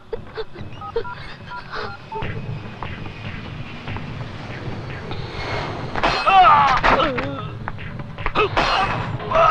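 Telephone keypad dialing tones in a Telugu action movie scene, short beeps scattered over tense background music and scuffling, with voices talking at points.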